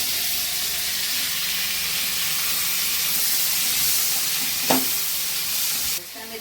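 Tomatoes tip into golden sautéed onions for a South Indian vada curry, raising a steady, close hiss of frying that holds throughout, with a brief clatter near the end.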